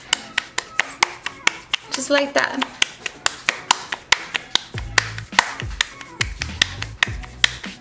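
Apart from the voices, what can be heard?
clapping masa dough between hands to shape gorditas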